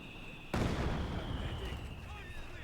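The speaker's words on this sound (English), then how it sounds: "we got the delayed fuse heavy mortar bombs" Heavy delayed-fuse mortar bombs explode in the World War II strategy game Company of Heroes 2, a sudden loud, dense blast followed by a long rumbling, crackling barrage that holds at strength, with no talk over it.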